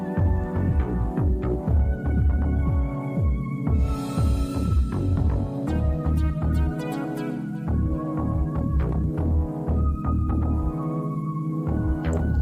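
A sewing machine stitches both sides of an old t-shirt being reworked, its motor whirring and needle throbbing steadily and close up, with brief changes in pace and no talking.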